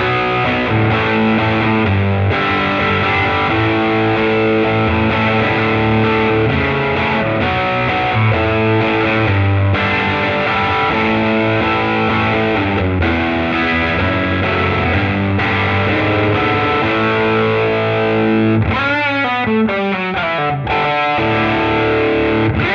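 A heavily distorted electric guitar on its bridge pickup plays sustained chords and riffs, thick and saturated, ending with a quick run of sliding notes.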